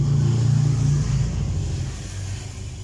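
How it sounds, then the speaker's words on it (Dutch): A motor vehicle, likely a motorcycle, drives past outdoors on a summer day, a loud low engine rumble with a revving pitch that fades over a few seconds. "Het is weer zomer, de motoren komen weer voorbij"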